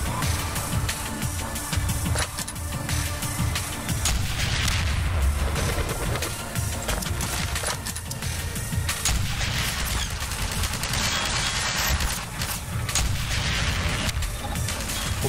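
Dense, continuous combat in Half-Life 2, with rockets fired and exploding amid a relentless barrage of booms and gunfire. The noise stays loud throughout, with no pauses.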